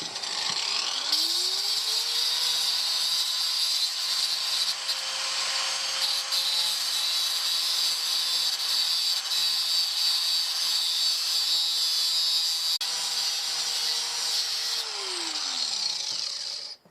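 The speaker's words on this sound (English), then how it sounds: "I'm going to go and grind the flat parts" Power grinder working the flat parts of a metal prawn net frame, winding up, holding a steady high whine with gritty grinding for about twelve seconds, then spinning down; loud and close, no talk.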